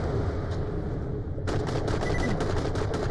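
Gunfire in the video game Borderlands: The Pre-Sequel, a rapid burst of shots starting midway and rattling on steadily, close and fairly loud over a dense game backdrop.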